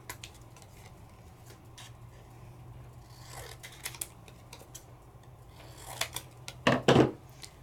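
Paper is trimmed for an interactive stamped craft card, with scattered snips and light ticking clicks that end in a louder cluster of close cutting sounds, and nobody talks.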